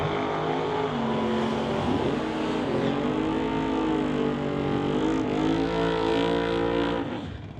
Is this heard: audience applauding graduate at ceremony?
no